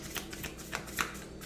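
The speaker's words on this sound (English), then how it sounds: "These cards are super thin, so they don't really shuffle that well." Super thin playing cards being shuffled in a few short, soft riffling bursts, close but faint, with no talking.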